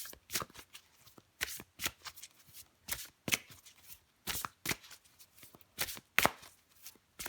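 Tarot cards being shuffled by hand, a quick series of crisp riffling bursts in an uneven rhythm, close and clear with no talking.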